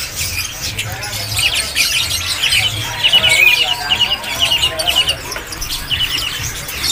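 Many small caged birds chirp and tweet in overlapping bursts at a market stall against a busy background murmur, with occasional louder squawks from fowl nearby.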